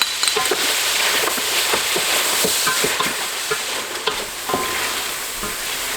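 Beef frying with onion in oil after yogurt is added gives a loud, dense sizzle, broken by repeated spoon scrapes and stirring taps close up.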